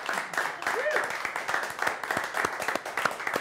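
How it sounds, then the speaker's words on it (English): Podcast audience clapping for the guests at the close of the show, a dense patter of applause running throughout with voices talking over it. "let's give these guys one more round of applause"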